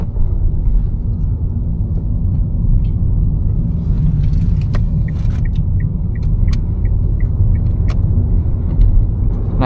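A car idles and creeps through a busy roundabout on a road trip outside Oslo, Norway, with a steady low cabin rumble and a few faint clicks and taps, no talking.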